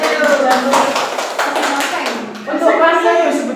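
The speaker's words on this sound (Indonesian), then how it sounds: "tepuk tangan dulu buat kita dulu" A classroom group gives a short round of hand clapping during a biology micro-teaching lesson, with a teacher and students talking over and between the claps.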